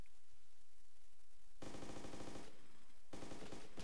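Gunfire in the video game DayZ: two loud bursts of rapid automatic shots, the first lasting about a second and the second starting shortly after, with quieter movement and ambience before them.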